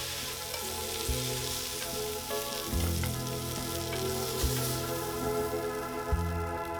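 Rabbit pieces frying in olive oil in a pan, with a loud, steady sizzle and crackle throughout and occasional low knocks from stirring or moving the pieces.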